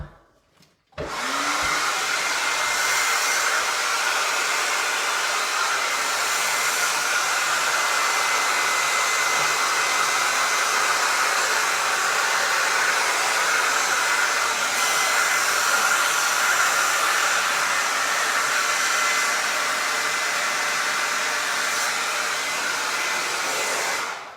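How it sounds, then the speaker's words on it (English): A hair dryer switches on after a click and blows steadily with a loud, even whooshing hum for a long stretch, drying glass and resin art, before cutting off. "I'm gonna bring it over closer to my dryer so I don't blow all the glass around"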